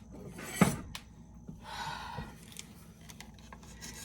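During meal prep, scissors snip something open with a sharp cut near the start, followed by quieter rustling, rubbing and small clicks, faint and close, with no talking.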